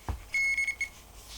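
A vehicle alarm emits a thin, high electronic tone in a few short pulses and one steady stretch, fairly quiet and heard alone after a soft low thump.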